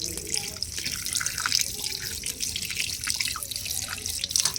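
Meat rinsed under running tap water outdoors, a continuous close splashing flow with drips and trickles, steady throughout and without speech.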